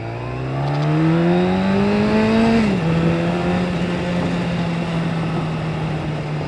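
A motorcycle running with its exhaust baffle removed makes a loud, raw howl while riding near lakes, its engine note climbing steadily, then dropping at a gearshift and holding a steady drone under the wind.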